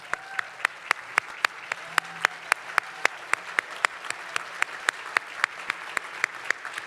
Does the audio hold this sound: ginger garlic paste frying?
no